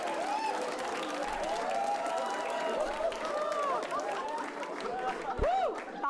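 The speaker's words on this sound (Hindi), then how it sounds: "ताली बजा रहे हैं लोग आपके लिए।" An audience claps for a comedian at a roast show, with steady applause and crowd chatter running throughout, along with whistles and squeaky tones, and a brief thump near the end.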